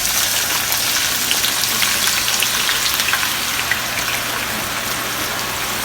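Sliced onions deep frying in a pot of oil for beresta, a steady, close, rain-like crackling sizzle that continues evenly throughout with no talk.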